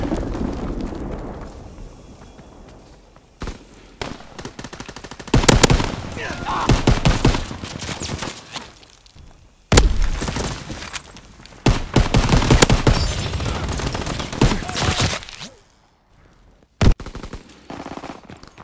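Call of Duty WWII team deathmatch on the Gibraltar map, with loud bursts of rapid machine-gun and rifle fire in repeated volleys, broken by brief pauses and faint game voices.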